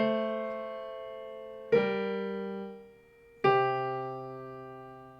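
Piano left hand plays the up-stem notes of the Mozart Arietta alone: three sustained low notes struck about every 1.7 seconds, each ringing and decaying, close and clear with no talking.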